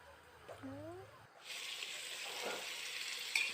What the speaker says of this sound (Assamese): অলপ নিমখ হালধি তেলত দিয়াৰ পিছত আদা নহৰুখিনি দি দিলোঁ।